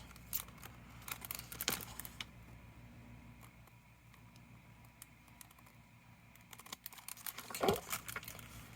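Scissors snipping paper for a beach journal, close crisp cuts and crinkling handled paper in short irregular bursts.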